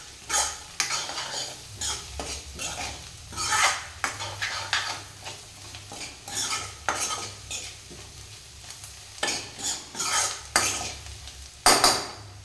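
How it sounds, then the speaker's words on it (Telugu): Curry stirred in a pan to coat it with chili powder: repeated scraping strokes of a spoon against metal, light sizzling underneath, a few clanks, close and alone. "ఇది నీట్గా కారం పట్టేటట్టు నీట్గా కలుపుకోవాలి."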